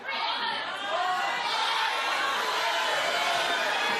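A studio audience on a daytime talk show shouts and cheers in a dense, continuous roar that fills the room, with voices rising over one another.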